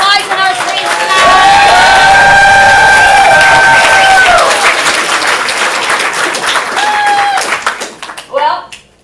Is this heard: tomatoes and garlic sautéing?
no